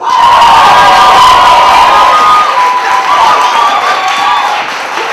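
A loud crowd cheers, whoops and applauds at a live Amnesty International slam show in St. Louis, with shrill shouts and sustained clapping filling the room before the noise slowly tapers off.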